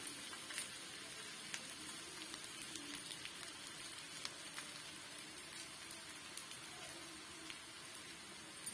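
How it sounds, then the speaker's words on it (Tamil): A ragi chilla fries in a little oil on a pan over medium heat, giving a soft, steady sizzle with faint crackles. The sound is quiet, close and continuous, with no voices. "இப்ப இதுக்கு மேலயும் லைட்டா வந்து ஆயில் அப்ளை பண்ணிக்கலாம்."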